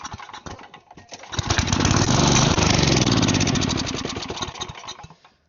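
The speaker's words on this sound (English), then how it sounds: "So I'm gonna spray some carb cleaner in here and just see if it even runs." A small engine being tested for a go-kart, with carb cleaner sprayed in, cranks with a few rough pulls, catches and roars at a loud steady rev for a few seconds, then sputters and dies out.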